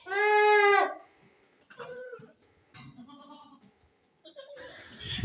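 A goat with a cold gives a loud, quavering bleat close by, lasting under a second, followed by quieter handling sounds and low voices in the background.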